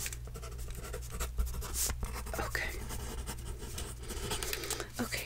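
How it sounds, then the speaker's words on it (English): Pen writing on paper during a close-up personal color analysis, a soft scratchy scribble running throughout with faint quiet speech-like murmurs over a low steady hum. "So that is something I need to write down."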